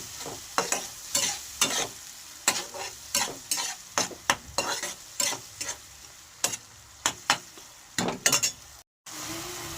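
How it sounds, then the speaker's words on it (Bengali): Mustard-poppy paste ground with green chilies is stirred into sizzling onion and tomato, a rapid run of loud spoon scrapes against the pan over a steady frying hiss, ending in a brief cut of silence. "যে সর্ষে পোস্ত বেটে রেখেছিলাম কাঁচা লঙ্কা দিয়ে সেগুলো এটাকে পেঁয়াজ টমেটোর মধ্যে ভালো করে আমি মিশিয়ে নিচ্ছি"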